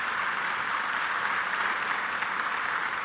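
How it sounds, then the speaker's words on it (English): Steady applause from an audience at a city address honoring a police band, an even wash of many hands clapping at moderate distance with no talk over it. "Let's give them a round of applause as well"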